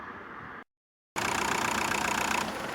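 A VW Golf Mk4 1.9 TDI diesel engine idles after an oil and filter change, giving a steady mechanical hum that briefly cuts out to silence and then resumes slightly louder and rougher.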